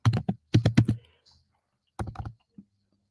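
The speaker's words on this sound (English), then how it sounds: "It be sounding like I be typing so hard and I'm not." Loud, fast bursts of keystrokes clatter on a computer keyboard up close, in two clusters separated by a short pause, ending with a single trailing key tap.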